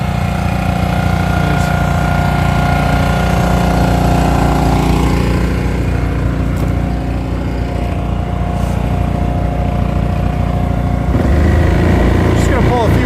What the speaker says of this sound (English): we got the splitter fired up